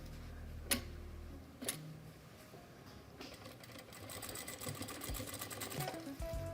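A sewing machine runs a reverse backstitch on a folded fabric edge, giving two sharp clicks before a rapid, even ticking whir of stitching that builds and continues to the end, with no talk.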